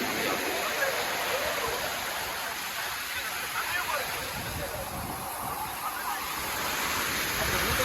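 Floodwater rushing past houses and a shop in Kumarasamypuram, Mullaitivu, a steady broad roar of flowing water, loud and constant throughout.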